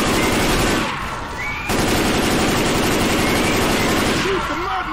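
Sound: gunfire in the video game Left 4 Dead 2

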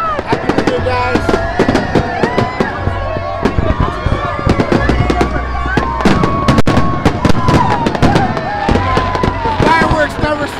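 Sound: New Year's Eve fireworks exploding

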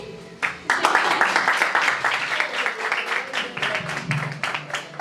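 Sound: party guests clapping

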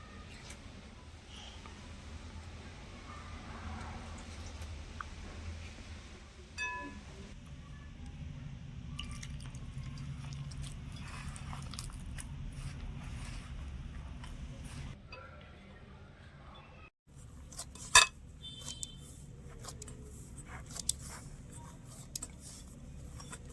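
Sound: kneading momo dough with lukewarm water

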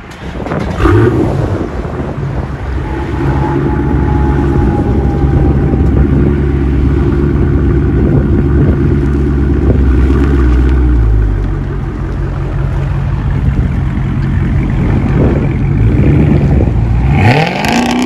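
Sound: Dodge Charger 392 Hemi 6.4L loud aftermarket exhaust revving

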